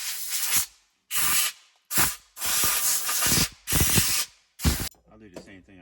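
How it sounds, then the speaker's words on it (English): Loud bursts of compressed air from an air blower fitted with a brake-tubing wand, blowing dirt out of a Ford 5.4 engine bay near the exhaust manifold; about six separate hissing blasts with short pauses, close to the microphone. "Got my air blower with the wand."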